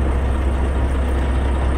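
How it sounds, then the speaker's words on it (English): A truck engine idles steadily right after starting, a loud, continuous low rumble heard up close with no talk over it. "Might take a minute because the truck just fired on."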